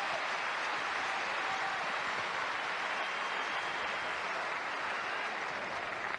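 A tennis crowd at the 2004 Australian Open quarterfinal between Safin and Roddick claps in dense, sustained applause, a steady rain-like wash that holds evenly for several seconds with no other sounds.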